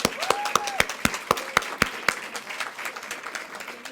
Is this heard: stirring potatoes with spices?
no